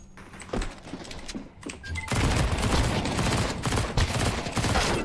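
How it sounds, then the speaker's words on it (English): Rapid pistol fire in a video game match, a dense volley of close shots after a few scattered thuds, with no talking. "یارو نشسته تر تر تر با پیستول داره ما رو میزنه"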